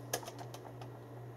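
Quick, faint keystrokes from a CM Storm Mech mechanical keyboard in an aluminium case, typed on a desk raised on its risers; a handful of light clicks over a steady low hum.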